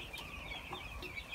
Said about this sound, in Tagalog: papakita ko lang ulit sa inyo yung alaga naming chicken